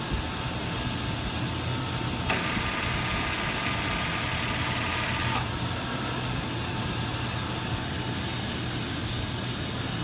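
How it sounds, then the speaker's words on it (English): A 2000 GMC Sierra engine idles steadily with its air-conditioning compressor engaged, giving a continuous low rumble and hum with a brief higher-pitched whine partway through. No one speaks. "Compressor kicked in, which is good."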